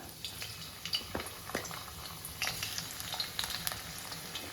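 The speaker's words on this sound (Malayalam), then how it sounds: "മൂന്ന് ഉരুളക്കിഴങ്ങ് ഞാൻ നീളത്തിൽ എരിഞ്ഞ് വെച്ചിട്ടുണ്ട് അതും കൂടെ ഒന്ന് ഫ്രൈ ആക്കി എടുക്കാം" Sliced potatoes fry in oil with a quiet, steady crackling sizzle, dotted with small pops and light clinks of a utensil in the pan, heard alone without talk.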